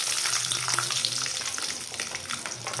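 Fresh coconut fries in oil as part of a chole curry base, a steady, loud sizzling hiss with light crackles and occasional stirring scrapes close by.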